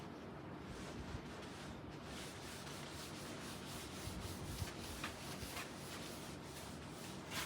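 A board eraser being rubbed back and forth to wipe writing off a classroom board during an algebra lesson, a steady, close, scratchy swishing with faint rhythmic strokes that runs unbroken for the whole stretch, with no talking.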